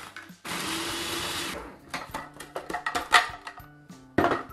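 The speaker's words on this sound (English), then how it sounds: "I have this food processor, which I'm going to add about 10 Oreo cookies to." A food processor grinds about ten Oreo cookies into fine crumbs in a home kitchen. There is one long loud whirring burst, then a series of short choppy pulses with clattering, and a final brief burst.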